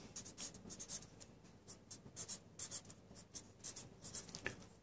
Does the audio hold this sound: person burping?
no